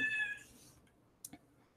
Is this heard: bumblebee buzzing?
no